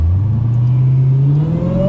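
Dodge SRT Hellcat Durango engine accelerating hard, a loud low drone that climbs steadily in pitch over two seconds, heard from close by with no talking.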